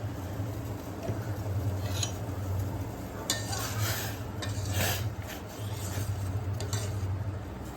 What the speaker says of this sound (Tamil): இப்போ எல்லாமே சேர்ந்து நல்லா கொதிக்கட்டும்